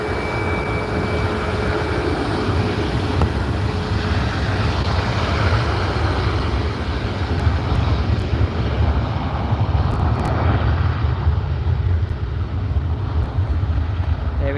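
A Ryanair 737 Max jet at Liverpool Airport, its engine roar a steady broadband rumble heard at a distance, blended with wind buffeting the microphone throughout.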